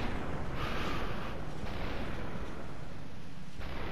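Rapid assault rifle gunfire in the video game SUPERHOT, a loud continuous burst of dense shots filling the whole stretch with no pauses and no talking.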